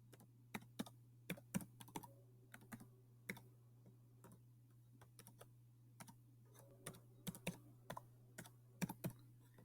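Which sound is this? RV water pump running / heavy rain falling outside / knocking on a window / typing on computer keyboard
typing on computer keyboard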